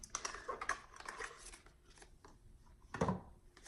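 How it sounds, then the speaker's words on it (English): A Lenormand card deck is shuffled in a few quick riffling bursts near the start, with a louder card shuffle later, close up and with no talk. "You can get a really good shuffle."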